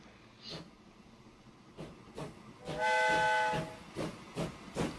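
A steam train in the Train Fever video game, Wild West era, chugs with rhythmic puffs and a sustained whistle blast in the middle, fairly close and alone.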